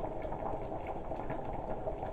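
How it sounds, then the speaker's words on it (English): A pot of afang soup with goat meat bubbles and gurgles at a steady boil, close up, with no voices. "So guys, you can see the soup boiling."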